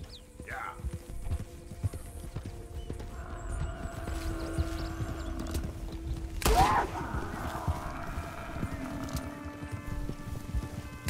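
Horse hooves clip-clop at a walking pace in the video game Red Dead Redemption 2, joined by a brief whinny and a sharp burst of gunfire, with people talking faintly under the game sounds.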